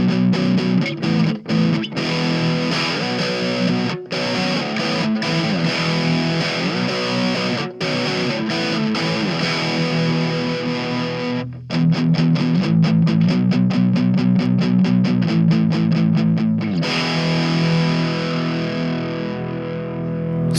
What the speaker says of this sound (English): So if I push it, if I'm just doing something, you can hear it better with my distortion.